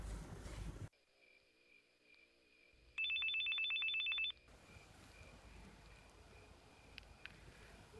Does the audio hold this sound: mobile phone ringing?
yes